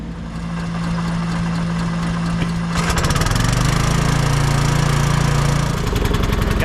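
A small lawn mower engine, almost out of gas, running close by, idling steadily and then rising into a louder, rougher rumble partway through.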